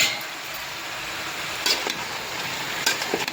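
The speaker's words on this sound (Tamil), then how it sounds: "இப்போ இதை வந்து நல்லா வந்து கிளறி விட்டுக்கலாம் ஃப்ரெண்ட்ஸ்" Bottle gourd curry being stirred in a pan, a soft steady sizzle with two or three brief scraping clinks, close and without talk.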